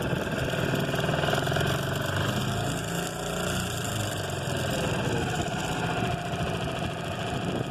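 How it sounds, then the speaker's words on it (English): A small cottage boat engine, started with a pull cord and choke, idles to warm up, giving a steady, moderately loud mechanical hum and rattle that runs unbroken with no talk. "Let it idle for a little while to warm up"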